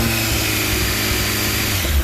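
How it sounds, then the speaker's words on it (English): A 2004 Honda CB1300 motorcycle engine runs steadily with a smooth, quiet idle-like hum and stock exhaust, continuous and close for two seconds with no voices. "CB1300 engine, quiet as a mouse, really smooth engine, and a really quiet exhaust as well."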